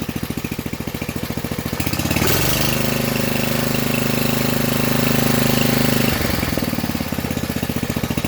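An old Briggs and Stratton/Tecumseh small engine runs with a steady fast chug, then its pitch drops to a smoother lower drone as it idles down before picking back up near the end, loud and close throughout.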